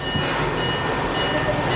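Steady rumble and hiss of the Serengeti Express amusement park train ride at Busch Gardens rolling along, constant and close with no talking.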